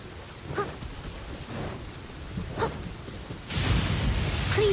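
Steady rain on a surface in Genshin Impact with a few rumbles of thunder, the downpour swelling louder near the end; no voices.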